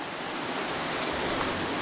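Gentle ocean waves wash onto a beach in a soft, continuous roar, steady and unbroken.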